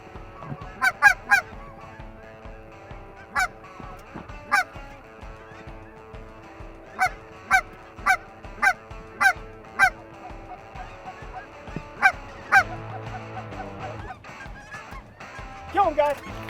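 Geese give repeated loud honks overhead during a waterfowl hunt over pea fields in Saskatchewan, the calls coming in irregular bursts of several at a time above a quiet background.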